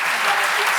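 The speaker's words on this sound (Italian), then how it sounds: "l'applauso vostro di stasera è giustissimo" A theatre audience applauds after a stage performance, with dense, even clapping filling the brief moment.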